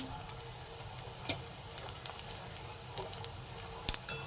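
Pakoras made from leftover soaked rice frying in hot oil, a steady close sizzle with scattered small pops and crackles throughout.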